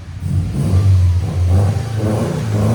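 A 2015-2021 Subaru WRX STI 2.5L turbo with a custom exhaust revs up loudly close by, a deep burbling engine note swelling and settling in a couple of quick pulls.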